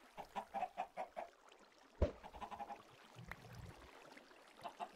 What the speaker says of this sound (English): Yeah, talking about chickens, they get stuck in the fence here.